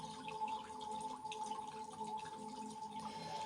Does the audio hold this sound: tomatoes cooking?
no